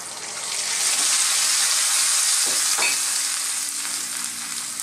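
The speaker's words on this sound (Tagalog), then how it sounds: "ngayon, i-add na natin ang ating chicken stock" Chicken stock poured into a pan of sautéed chicken and upo for ginisang upo, bringing a loud, steady sizzle and hiss that swells and holds for several seconds with a brief clink of stirring.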